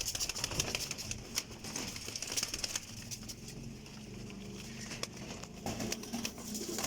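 Pigeons, among them a black Cheena pigeon, coo softly at a breeder's loft, with low murmuring calls and occasional sharp ticks and rustles, fairly faint against a busy background.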